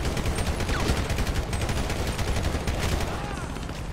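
Loud, dense bursts of rapid gunfire in the video game GTA 5 with a real-life mod, continuous shots overlapping into a fusillade, with a voice faintly underneath.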